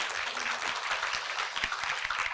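Scattered applause from an audience at a panel discussion, a few seconds of moderately loud, uneven clapping with no talking.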